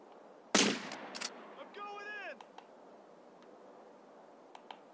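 A sniper rifle fires in GTA San Andreas on Android: one sharp, loud shot near the start, followed by a few quieter clicks and game sounds against a low background.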